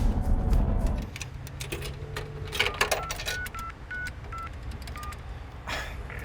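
A payphone keypad is pressed several times, each short dialing tone spaced apart over a steady background hum, after a loud clunk at the start.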